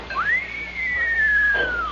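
A voice whistles in imitation of a falling axe: one sustained whistle that rises quickly, then holds and slowly drifts downward for nearly two seconds, clear and close.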